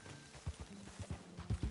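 Horse hooves from Red Dead Redemption 2, clopping in a brisk uneven walking rhythm, about eight soft thuds close by against a faint background hum.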